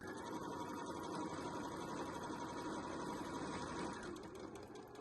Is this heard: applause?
no